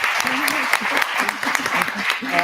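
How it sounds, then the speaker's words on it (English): A conference audience at a leadership summit claps in a dense, sustained round of applause for the panelists, filling the room with steady rapid hand claps. "I want to give them a round of applause."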